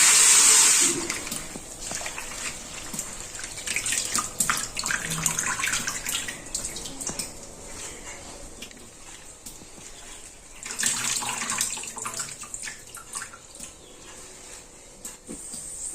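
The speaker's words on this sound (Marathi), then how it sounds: "पाण्यात धुवून घ्यायचे आपल्याला" Wild leafy vegetables called killu are washed in water, with a tap running and water splashing and swishing steadily in a basin for the whole stretch, close and moderately loud, with surges near the start and middle.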